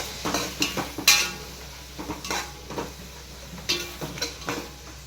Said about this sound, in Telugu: ముక్కలతో పాటు కొంచెం అల్లం పేస్ట్ కూడా వేసి బాగా తిప్పుకుందాము